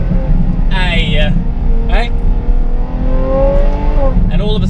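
Ferrari F12 fitted with an Innotech IPE exhaust accelerating hard on an open road, its engine note rising steadily through the gears, loud and close, with brief shifts and a few short exclamations over it.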